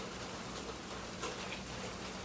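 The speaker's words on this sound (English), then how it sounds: "So the rain has started." Light rain falling on a Sunday night, a soft, even hiss of drops that stays faint and constant throughout, with no voices.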